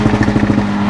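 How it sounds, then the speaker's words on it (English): A Stage 2+ tuned 367hp MK6 Golf R engine drops into overrun after a rev to about 6,000 rpm, a loud, close, burbling drone with faint pulsing over a brief moment. "Just let off and then it's overrun."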